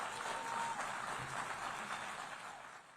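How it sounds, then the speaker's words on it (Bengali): Delegates at the United Nations applaud during an address by Netanyahu, a sustained, even wash of clapping from a large hall that fades slightly toward the end. "নেতানিয়াহুর এই বার্তার সময় হাততালি দেন জাতিসংঘে থাকা আমেরিকার প্রতিনিধিরা।"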